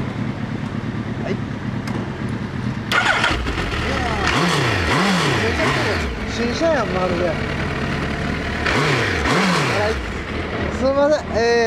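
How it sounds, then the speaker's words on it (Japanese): A fully customized Suzuki Hayabusa GSX1300 motorcycle with a Striker exhaust starts up and idles, then is revved in sharp paired throttle blips, close and loud, with people talking in between. "エンジン聞かせてください。"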